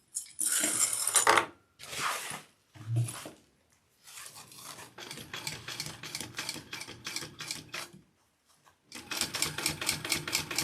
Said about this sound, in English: Let's sew that on.